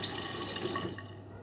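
Water gushes steadily into the drum of a Miele W562 washing machine running a woollens cycle at 40ºC, a continuous near filling rush that eases slightly toward the end.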